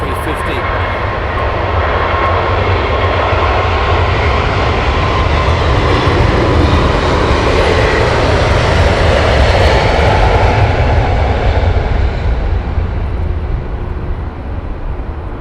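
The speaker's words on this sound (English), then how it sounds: "So it lifts off of runway 27 right here at London Heathrow" An airliner lifts off runway 27 at London Heathrow with a loud, sustained engine roar that swells and holds for the whole stretch before easing slightly at the end.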